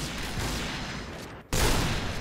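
Gunfire in the video game Point Blank, a sustained dense volley of shots filling the first second and a half, a brief dip, then another loud burst resuming, with no talking over it.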